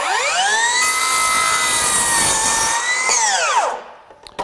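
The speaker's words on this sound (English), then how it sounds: "We're gonna take this, turn it over to a 45 degree angle, and we'll make a cut on the end." Metabo HPT 18V 10-inch single bevel cordless miter saw cutting the end of oak baseboard at a 45-degree angle: a loud, steady whining blade spin that holds for about three seconds, then winds down and stops.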